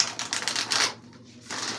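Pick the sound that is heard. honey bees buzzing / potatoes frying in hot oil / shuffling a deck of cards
shuffling a deck of cards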